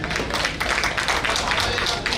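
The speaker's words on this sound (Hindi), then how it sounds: "जोरदार ताली बजा दो।" An audience at a Holi Mahotsava 2022 stage event claps hard and steadily, a dense, loud wash of hand claps filling the entire moment without pause.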